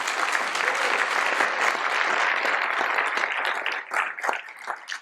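A graduation ceremony audience breaks into applause for a faculty member, a full, dense round of clapping that holds steady, then thins into scattered individual claps at the close.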